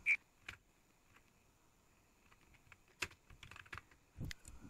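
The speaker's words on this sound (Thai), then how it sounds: "นี่เลยเราจะพิมพ์มันว่า" Scattered keystrokes tap on a computer keyboard while the game Abiotic Factor is played, coming in sparse single clicks and small clusters, close and fairly quiet over faint background hum.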